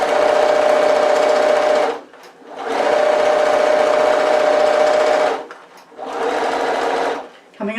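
Sewing machine stitching across the strap of a tote bag, a steady loud motorized whir in three long runs with brief stops between them.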